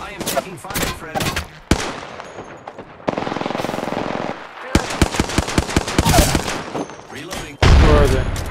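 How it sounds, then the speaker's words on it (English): Loud gunfire fills a video game firefight: rapid automatic bursts and clusters of sharp shots, close and punchy, broken by a sustained rattling stretch and short pauses, with some talk underneath. "I am taking fire, friend."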